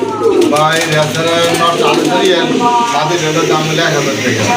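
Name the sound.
pigeons cooing at a pigeon seller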